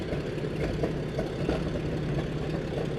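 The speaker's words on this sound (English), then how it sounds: "That's the sound of the Cromwell that has been started up." Cromwell tank engine idling after start-up, a steady deep low rumble with a broadband throb, continuous and fairly close, no talk over it.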